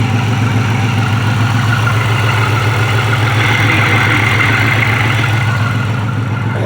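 A 2006 Pontiac Grand Prix engine idles steadily and close up with a new catalytic converter fitted, a constant, even mechanical drone with a fast regular pulse throughout.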